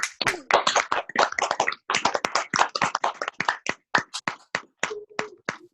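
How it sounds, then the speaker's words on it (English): Pupils clap during a virtual school assembly. Close, crisp individual hand claps come in quick, uneven bursts with short gaps, the sound of a few people clapping rather than a large crowd. "Give yourself a big round of applause."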